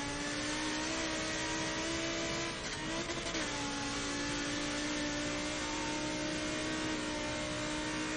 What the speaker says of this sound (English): This car just sounds fantastic